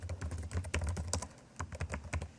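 Rapid keystrokes on a computer keyboard as a folder name is typed, a steady close patter of clicks with uneven rhythm and no voices.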